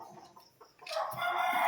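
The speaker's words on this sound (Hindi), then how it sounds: "ये सोनाली मुर्गी होती है ना, ये आप लोगों को खरीदना पड़ेगा देसी।" Sonali desi chickens cluck and a rooster crows nearby, the calls swelling louder in the second half over a soft farmyard background.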